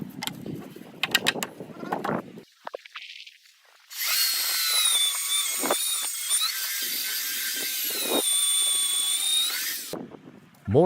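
A power drill or driver runs steadily for about six seconds, driving fasteners into the timber frame of a wooden off-grid cabin being built in falling snow. Short tool bursts and knocks come before and after it, with bird calls in the background.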